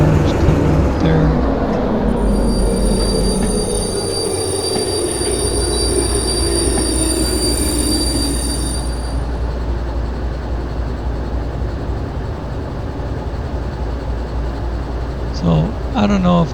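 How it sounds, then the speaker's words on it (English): A freight train with boxcars rolls by in the Derail Valley railway simulation game, with a loud sustained rumble and high wheel squeal over the first half that gives way to steady rolling clatter, ending in brief knocking. "Looks like boxcars coming up there."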